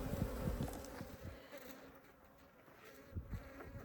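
Honey bees in a weak removal colony hive in Southern Arizona, a colony being robbed with dead bees in the bottom, give a faint, close, uneven buzzing with a few louder passes.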